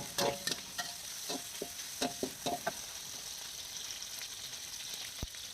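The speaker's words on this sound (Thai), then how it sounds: "ผัดให้หมูสุก" Pork stir-fried in a pan for a bean sprout dish, with a steady oily sizzle broken by repeated scraping strokes of a spatula and one sharp knock near the end, no talking.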